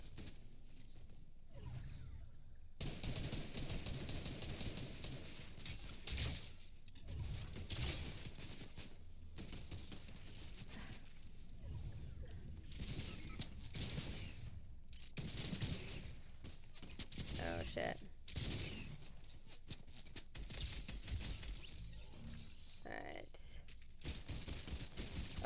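Rapid gunfire bursts from the Fortnite video game ring out repeatedly over a loud, busy game mix, with players talking over the action throughout.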